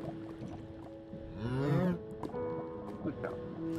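A cow moos once in the Minecraft video game, a short low bellow in the middle, heard under someone talking over light background game sounds.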